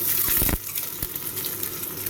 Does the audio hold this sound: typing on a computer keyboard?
no